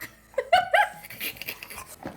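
A dog gives a few short high yips and whimpering vocal bursts close by, with brief lively pauses between them.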